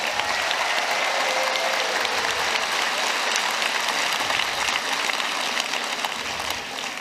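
Audience applause for volunteers at the closing ceremony of the Children of Asia 2024 games: a large crowd clapping steadily and densely, loud and sustained throughout in a big arena.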